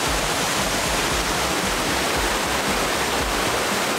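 Water rushes steadily over the Gollinger Waterfall near the Salzburg lakes, a loud, continuous roar of falling water heard up close with no pauses and no voices.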